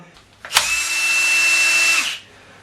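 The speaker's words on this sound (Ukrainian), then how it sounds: "гвинти викручуються з таким щелчком, що свідчить про те, що вони однозначно посаджені на фіксатор різьби" Threadlocked screws come out of a Holzforma G288 chainsaw with a sharp click, followed by a close, steady high whirring that lasts about one and a half seconds before cutting off.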